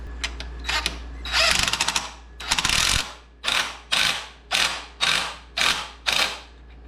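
A hand ratchet tightens a nut on the rack of a Honda XR150 motorcycle, producing about ten quick clicking bursts in steady rhythm, close and loud, with no talking.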